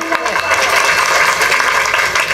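A crowd at a devotional kirtan gathering claps together in a sustained, dense burst of applause, loud and close throughout.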